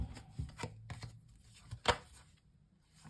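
Quiet, close tarot card shuffling: soft riffling and several sharp slaps and flicks scattered unevenly over a few seconds.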